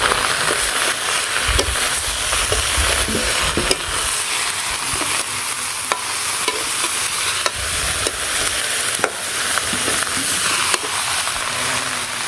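Vegetables fry in a hot pan in a village kitchen, sizzling steadily and loudly while a utensil scrapes and stirs with irregular clicks and knocks throughout, with no talk.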